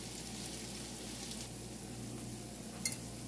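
Jamaican-style banana fritters fry in oil in a pot, giving a steady, even sizzle and crackle throughout, with one brief clink near the end.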